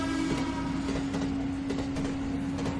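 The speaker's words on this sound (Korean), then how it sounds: "집으로 내려가는 기차에 몸을 싣습니다" Steady rumble inside a moving passenger train in Korea, a constant low hum with faint rhythmic clatter of the wheels, heard close and continuous with no talking.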